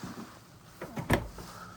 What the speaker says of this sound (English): So if I open this door